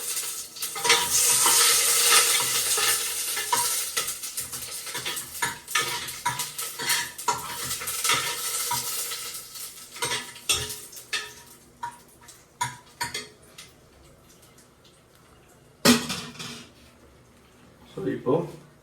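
Three dried red chillies fry in oil for a country chicken gravy, crackling and sizzling under repeated metal spoon scrapes against the pan, loud at first and then thinning out, with occasional speech.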